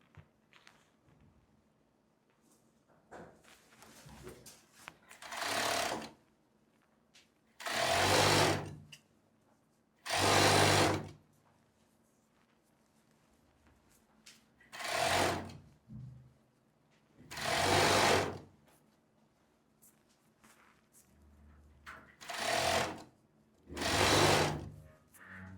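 Bursts of sewing machine stitching along a seam on a long skirt, about nine short runs of a few seconds each separated by quiet pauses, close and fairly loud with no talking.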